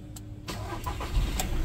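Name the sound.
Volkswagen Vento 2019 diesel car engine starting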